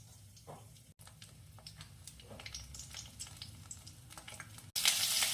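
Nigella seeds, a bay leaf and slit green chilies crackle and sizzle in hot oil, a steady close frying hiss with small pops, swelling louder near the end.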